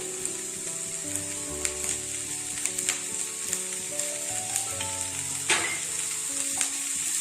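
Steady, close sizzling of frying in a pan while a potato-stuffed dish is cooked in a home chef contest, with soft stirring scrapes and occasional pops and no talking.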